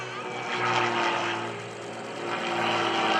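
An aerobatic propeller airplane flies a corkscrew roll at the Greenwood Lake airshow, giving a continuous loud engine drone with a steady propeller buzz that swells slightly and then fades back a little. There is no talking over it.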